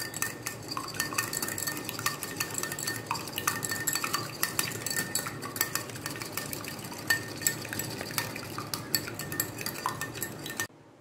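A utensil beats egg in a bowl for binding, tapping and clinking against the sides in a fast, steady rhythm, close and fairly quiet, with no talk over it.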